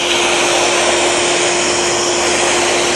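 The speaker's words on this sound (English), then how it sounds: "You should be able to blow in there and see in their fur." A high-powered pet blower or dryer pushes air into a dog's fur, giving a loud, steady, unbroken whoosh with a faint constant whine, close and continuous throughout with no talk.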